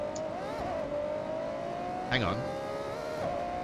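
In the Forza Horizon racing game, a sports car engine drones at a steady high rev, climbing slightly through a gear change, with a short squeal-like burst midway and a person speaking briefly.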